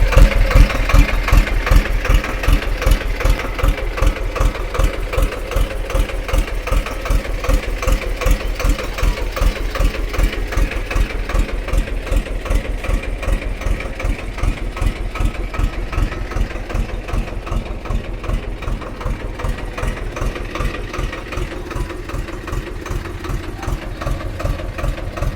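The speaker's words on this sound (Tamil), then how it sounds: "இந்த வண்டியினுடைய இன்ஜின் சவுண்டு போடுறேன், எல்லா வண்டியுமே பார்த்துக்குங்க." Small second-hand mini tractor engine idling close by, a steady rapid mechanical chugging and knocking that runs evenly for the full length with no talk over it.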